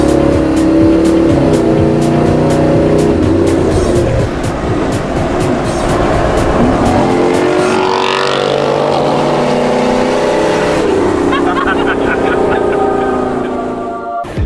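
A Toyota 79 series with an 8-speed automatic accelerates hard, its loud engine drone rising and dropping through several gear changes, heard from close up inside the cab with a steady road roar underneath.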